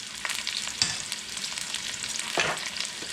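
Onions frying in a pan for a redfish curry, a bright steady sizzle with occasional louder crackles and stirring scrapes, close and heard without talking.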